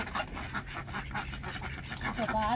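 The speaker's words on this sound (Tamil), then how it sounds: "நல்லா விரும்பி சாப்பிடுவாங்க எங்கள் தாரா பிள்ளைகள்" Domestic ducks feeding busily in a morning farmyard give scattered quacks and honking calls amid a constant noisy outdoor background, fairly close.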